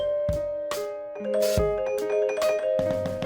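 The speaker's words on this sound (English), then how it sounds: "These are some Celeste studio bells from Abbey Road's Keyboards." Bright celesta studio bells from Abbey Road Keyboards ring out in a short sequence of chimed notes and chords, clear and close, each tone sustaining with a soft shimmer.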